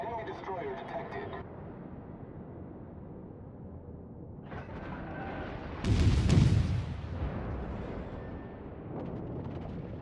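Naval guns firing from warships in the World of Warships battle game, a heavy boom swelling loud for about a second before decaying into rumbling background noise, with engine and ambient game sound around it.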